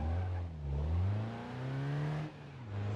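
An Opel Astra's engine runs close by, its pitch rising and falling through a couple of revs with a smooth, steady hum between them.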